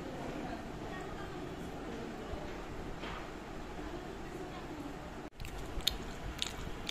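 Someone eats pulao, vegetable curry and chicken roast with salad and egg, making faint close biting and chewing sounds over a low steady background, with a short dropout and small crunchy clicks toward the end.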